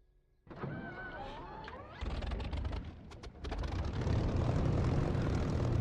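A propeller aircraft engine in a flight-sim game whirs through its starter, then catches and rises into a loud, rough, steady running drone.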